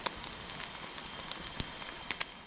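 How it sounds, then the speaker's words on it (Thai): Rain pattering on a forest campsite during a storm in dense jungle, a steady close crackling patter of drops with scattered sharper hits and no voices. "ตอนนี้ฝนมาอีกแล้วนะทุกคนนะ"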